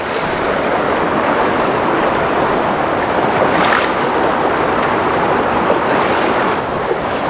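River water rushing loudly and continuously at a backpacking river crossing in the Alpine Lakes Wilderness, with a broad steady roar and some wind buffeting close to the microphone.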